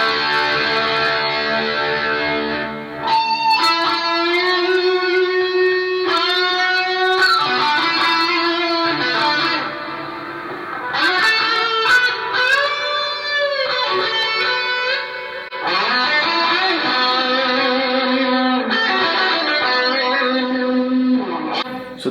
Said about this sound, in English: So this is just a simple amp simulated kind of a heavier sound created by the rat on one track